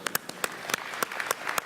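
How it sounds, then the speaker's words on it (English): Audience clapping in a large hall at the plenary session of the Moscow Urban Forum, faint and somewhat sparse, with distinct individual claps spread across the moment. "Great applause."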